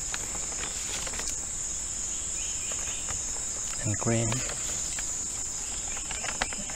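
Cicadas on a jungle hike at Khao Phra Thaeo in Phuket, Thailand, keep up a continuous shrill, high drone through the whole stretch while someone speaks briefly nearby.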